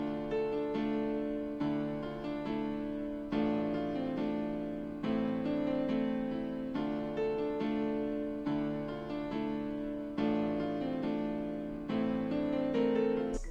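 Trap beat keys playing sustained inverted chords with spaced voicings, a steady harmonic pattern that changes chord every couple of seconds, loud and alone with no voices.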